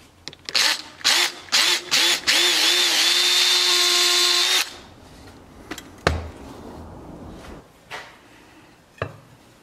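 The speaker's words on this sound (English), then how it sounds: "I'm going to jig it up on my hub mortising jig onto the new mortiser that we have built, and I'm going to mortise these for 1¼ inch spoke" A shop-built mortising machine cuts 1¼ inch spoke mortises into a wooden Sarven-patent wagon hub: several short loud power-tool bursts, then a sustained whine of a few seconds, followed by quieter knocks and clatter.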